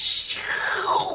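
A person's voice imitates a lizard puppet with a short, raspy, hissing vocal sound that sweeps from high to lower pitch, lasting about a second, close and fairly loud.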